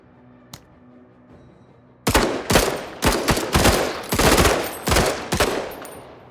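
A mech's gun in the video game MENACE fires loud, sharp bursts of gunfire, several rapid volleys in quick succession after a near-silent start with a faint thump.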